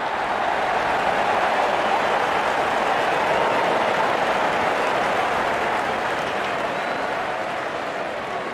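A stadium crowd in the Real Cricket 22 mobile game cheers and applauds as the opening batsmen walk out, a dense, continuous roar of clapping that holds at the same level from start to finish.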